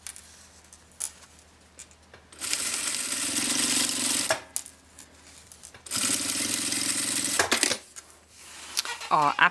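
Sewing machine stitching the seam of a manicure bag lining in two bursts of steady, fast mechanical whirring, close and fairly loud, with quiet pauses and handling noises between runs.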